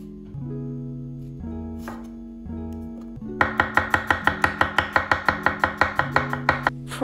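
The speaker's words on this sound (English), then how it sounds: "So you can use spring onions, but you have to cut it into half because it's too thick." Kitchen knife chopping spring onions on a cutting board for a Korean seafood scallion pancake, a steady run of evenly spaced crisp chops over a sustained musical tone.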